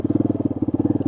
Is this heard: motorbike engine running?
yes